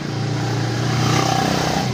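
An old, dirty motorcycle engine runs hot and weak from contaminated fuel, giving a steady, loud, close-up idle drone with a slightly uneven throb and a faint clatter.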